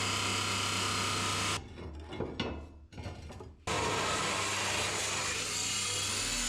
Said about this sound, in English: I'm using the metal cut-off saw to cut the steel angle at an angle